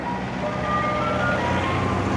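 An ice cream truck plays a faint, thin chime melody over a steady broadband rumble of traffic and wind.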